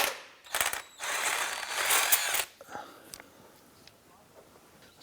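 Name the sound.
ratchet removing Honda Civic crank bolt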